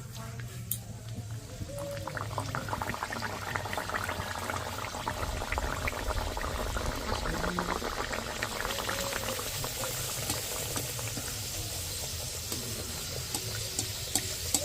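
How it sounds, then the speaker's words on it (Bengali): Pea-stuffed kochuri frying in hot white oil make a continuous bubbling sizzle with faint spoon or ladle movements, steady and close, with no clear speech over it. "তেল গরম হয়ে গেছে কচুরিটা দিয়ে দিচ্ছি"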